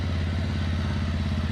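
A motorcycle ridden by a beginner learning to ride gives a steady, close engine drone with a low rumbling pulse, holding an even level throughout, with no talking over it.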